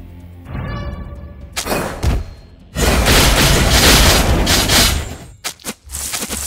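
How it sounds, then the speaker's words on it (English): A turret being destroyed in a mobile game sets off a heavy, loud blast that swells into a long roaring rumble, followed by sharp booms and impacts close up, with no speech. "Your turret has been destroyed."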